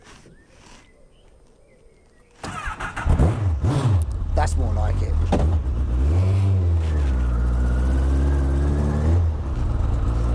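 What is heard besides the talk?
Fulcrum car with CBR1000RR engine starting and revving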